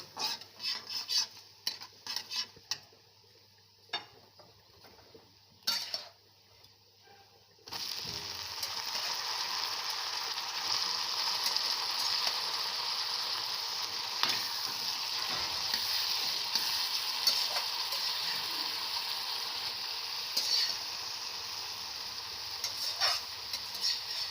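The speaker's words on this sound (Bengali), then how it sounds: "পেঁয়াজ, জিরে, শুকনো লঙ্কা ভাজা হয়ে গিয়েছে। এবার এর মধ্যে শাকগুলো দিয়ে দেবো।" A few scattered clinks and scrapes, then a loud steady sizzle as pumpkin greens hit a hot pan with fried onion, cumin and dried chillies, stirred with occasional utensil scrapes.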